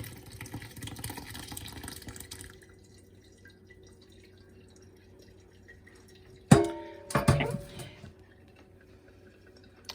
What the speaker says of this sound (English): we're going to pour it carefully into the strainer that we have lined with the cheesecloth